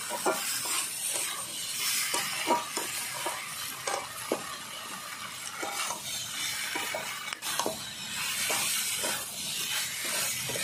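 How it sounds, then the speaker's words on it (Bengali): Mixed vegetables with broccoli, peas, carrot, beetroot and raw tomato are stir-fried in an uncovered pan, a steady close sizzle and hiss broken by regular scraping strokes of a spatula. "একটু পরে আমি ঢাকনা তুলে নিচ্ছি ভালো করে কষিয়ে নিচ্ছি"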